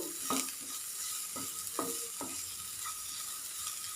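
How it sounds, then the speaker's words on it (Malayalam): Turmeric powder is sautéed in a pan for an okra thoran, with a spatula scraping and stirring in several distinct strokes over a soft, steady sizzle, close up and with no talking. "ഒരു മിനിറ്റ് ഒന്ന് വഴറ്റി കൊടുക്കുക മഞ്ഞൾപ്പൊടിയുടെ ഒരു പച്ച മണം മാറാൻ വേണ്ടി"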